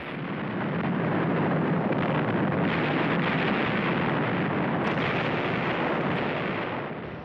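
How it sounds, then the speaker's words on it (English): A naval invasion fleet bombarding the port of Incheon at dawn in 1950 produces a dense, continuous roar of explosions and artillery fire, loud and unbroken, with no distinct separate blasts and no voices. "The largest invasion fleet since the Second World War bombards the port of Incheon."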